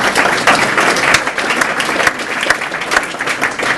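Loud, dense applause from an audience at an awards ceremony, many hands clapping steadily and close for a few seconds without letting up.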